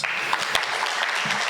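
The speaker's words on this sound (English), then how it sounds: "let's give Spence a round of applause." A brief burst of audience applause, steady clapping from a crowd throughout.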